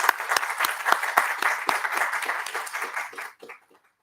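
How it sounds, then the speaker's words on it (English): Conference audience applauding at a valedictory session, a dense burst of many hands clapping at close range that holds steady for about three seconds, then fades out quickly to silence. "a big round of applause, I should say, for Professor Sujata Pal"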